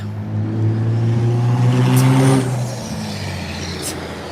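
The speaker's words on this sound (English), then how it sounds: "here comes a loud truck" A loud truck roars past close by on a road in Bird-in-Hand, Lancaster County, its engine rumble swelling then fading, with a brief hiss of air brakes.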